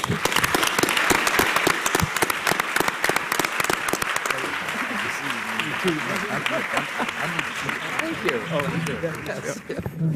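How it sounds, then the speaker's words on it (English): Sustained audience applause for panelists at a War on Poverty panel at the 2014 Color of Wealth Summit, a dense, steady clapping from a large room lasting throughout, with a voice speaking over it partway through. "Let's give them another round of applause."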